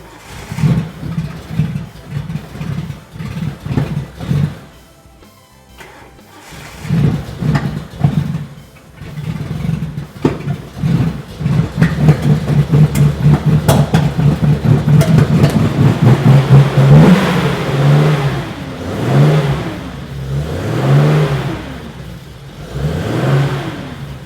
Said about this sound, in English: Let's see if the car will actually start in the morning.